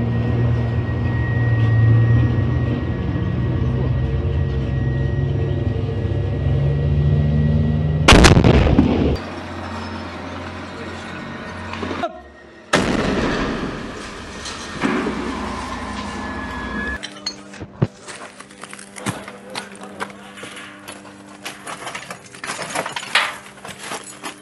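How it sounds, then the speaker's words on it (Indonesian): Low rumbling background broken by a sudden heavy blast as a tank is hit by a shot and explodes, followed by further sharp bangs, debris and crackling aftermath. "Hanya dengan satu tembakan, tank beserta tentara IDF langsung meledak dahsyat."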